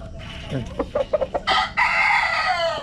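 A few clucks followed by a loud, nearby rooster crow that holds for over a second, no talking.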